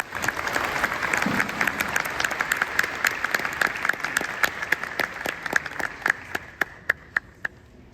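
A large commencement audience at SUNY Cortland applauds to welcome a speaker. The dense, loud clapping holds steady, then thins out over the last seconds to a few scattered individual claps.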